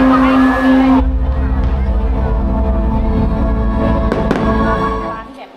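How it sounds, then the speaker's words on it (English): Fireworks at a Friendship Bridge 30th anniversary celebration in Isaan, Thailand, a dense, loud continuous rumble of bursts and crackles with a few sharper pops, and a crowd murmuring underneath. "the 30th anniversary drone show and fireworks for the Friendship"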